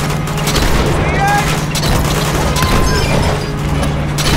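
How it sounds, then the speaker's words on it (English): A grenade launcher firing in Uncharted 2: Among Thieves, dense booming blasts and chaotic combat noise that are loud and continuous, with a voice talking over the din. "It's like a grenade launcher."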